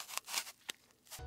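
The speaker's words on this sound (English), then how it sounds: "I added cutting into an apple." An apple being cut is used as an added food sound effect, heard as a few quiet, crisp crunching snaps and scrapes spaced out over about a second.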